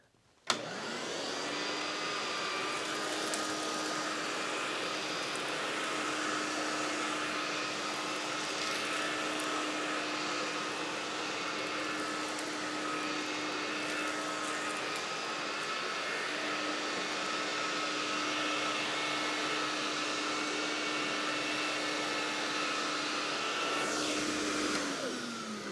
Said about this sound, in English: let's vacuum with it.